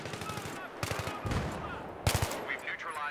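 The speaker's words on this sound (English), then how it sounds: "somebody's shooting me." Bursts of video game gunfire during a PC stress-test session, short rapid volleys heard near and fairly quiet, with a brief pause between them.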